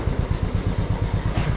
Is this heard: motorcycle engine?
yes